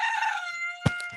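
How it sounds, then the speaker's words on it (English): Rooster crowing outdoors in the morning, one sustained tonal crow that cuts off, followed by a brief thump; no talking. "Because bird song is on point."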